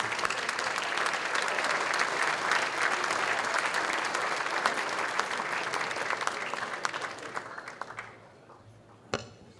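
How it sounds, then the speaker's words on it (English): Audience applause for guest speakers at the Norm Smith Oration, a dense, sustained clapping that carries strongly for about eight seconds and then thins out and fades, with a brief sharp sound near the end. "join me in a round of applause for our guest speakers"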